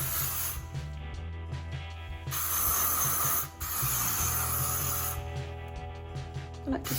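Bursts of aerosol hairspray hissing in long pulses over hair set in hot rod curlers, separated by short pauses, over a steady low background hum.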